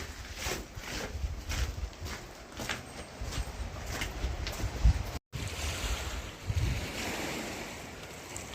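Warm sea waves wash and surge close by in a continuous rush with wind buffeting the microphone, with a brief dropout midway.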